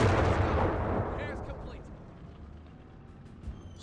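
Artillery bombards German lines in the World War II strategy game Company of Heroes 3, opening with a heavy booming blast that rolls off into a fading rumble, with a faint pop near the end.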